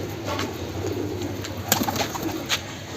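A pigeon, a limping bird, gives soft low cooing nearby, repeated murmuring calls over a steady background hum.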